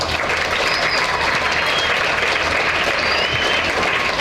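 Applause from an audience at a Tamil charitable trust's Ramanuja Jayanti ceremony in Perambur, thanking a donor and family: a dense, steady wash of clapping from many hands filling the whole stretch, with no talking over it.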